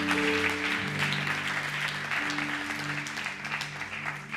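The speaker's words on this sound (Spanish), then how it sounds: "Dale un aplauso al Señor." A church congregation applauds steadily during a Spanish-language sermon, the dense clapping carried over sustained musical tones that hold beneath it throughout.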